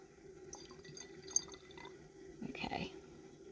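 Tincture liquid is poured into a jar, a faint trickle and drip that swells into a brief, fuller splash near the end, quiet and close with no voices.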